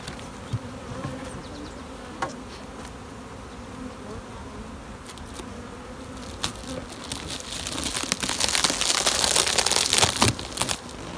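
Honeybees buzz steadily around an open beehive, a close continuous drone growing louder and busier toward the end, with scattered crinkling and handling sounds.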